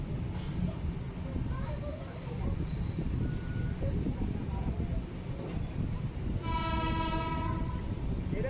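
At Vikarabad Junction, a train locomotive during a reversal rumbles steadily alongside talk, then sounds a loud, sustained horn blast near the end.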